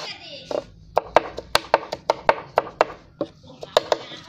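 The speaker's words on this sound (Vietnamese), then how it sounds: "mình phải băm đây, đây là đất sét nha" Clay is chopped for eel bait with a steady run of sharp, close chops, about a dozen evenly spaced strikes, while a person talks at the start and the end.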